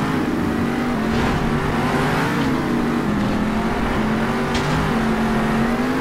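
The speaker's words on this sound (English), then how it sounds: "the sound of monster trucks behind you" Monster trucks race in the video game Monster Jam Steel Titans, with a steady loud engine drone and shifting revs under a continuous roar for the whole stretch.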